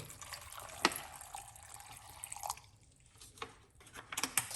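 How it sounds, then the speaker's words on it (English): Water trickles and drips into a pot as a cup of water is poured in, with a few louder splashes and clinks, fairly close and quiet overall. "Then we're gonna put 1 cup of water."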